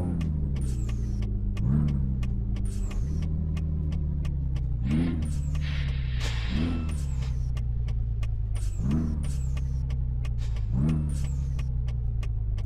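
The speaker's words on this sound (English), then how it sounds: "I did pretty good on that downshift" A truck engine in Euro Truck Simulator 2 drives near Uppsala, its steady hum rising and falling in pitch several times as the gears shift down, with short hissy bursts between the shifts and no talking.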